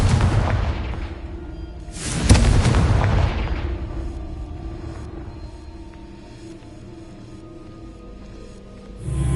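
The Confringo explosion spell goes off in a Harry Potter video game. A loud booming blast lands near the start and another around two seconds, each followed by a long rumbling decay and a low ambient hum.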